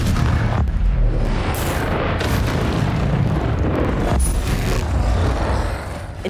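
A loud, booming fire-blast spell from Hogwarts Legacy roars for a sustained stretch, a heavy rumbling burst with sharp crackling onsets, up close and loud, with no talking.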